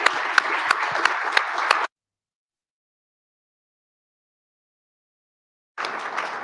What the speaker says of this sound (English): Please join me in thanking our speakers with a round of applause.